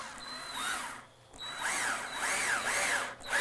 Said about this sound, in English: we're actually going to drive a screw into it to tighten everything together